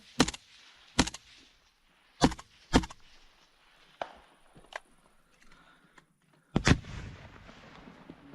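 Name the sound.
gunfire from soldiers firing in Ukraine war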